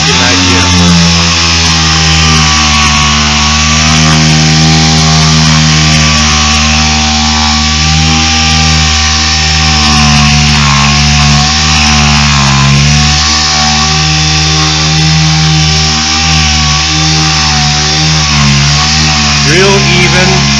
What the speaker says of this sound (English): So let me do a little bit of sanding and show you what it's like. So I have my sander here.